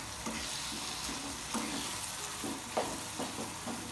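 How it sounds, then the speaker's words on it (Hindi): Raw turmeric vegetable with curd cooks in a pan, a softer steady sizzle broken by several spatula stirs and scrapes spaced about half a second apart, with no talking. "फिर इनको हम लोग पकने देंगे सबको, और तब तक पकाएंगे जब तक ये दही सूख नहीं जाए"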